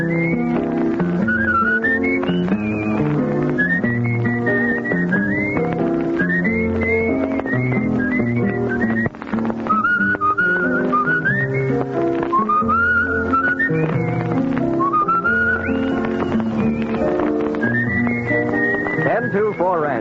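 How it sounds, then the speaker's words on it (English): A melodic whistled tune carries over a steady band accompaniment from an old radio program, bright and continuous, the whistle line rising and falling through repeated phrases. "It's time to be whistling along."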